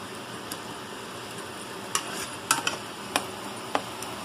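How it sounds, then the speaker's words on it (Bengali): Onion frying in oil with cinnamon, cardamom and cloves makes a faint, steady sizzle. Several sharp clicks and taps come from a utensil stirring against the pan, with no voices. "তো এটাকে আমি একটু ভাজা ভাজা করছি।"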